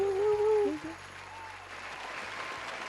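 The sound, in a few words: crowd applause sound effect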